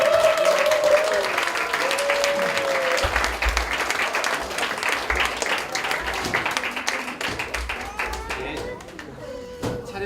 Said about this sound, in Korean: 박수를 쳐줘야 알게 될 것 같습니다.